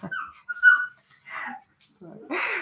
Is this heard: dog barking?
yes